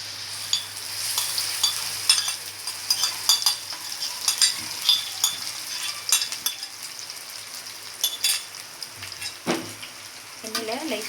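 Water spinach sautés in hot oil in a pan, with a steady close sizzle broken by repeated scraping and stirring clatter from a utensil.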